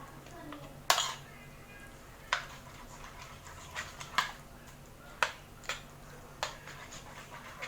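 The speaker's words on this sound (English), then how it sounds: "you put the noodles in the bowl like you just saw and you mix it" Instant noodles are mixed in a bowl with a utensil, giving a series of sharp clinks and scrapes spaced a second or so apart against quiet background hiss.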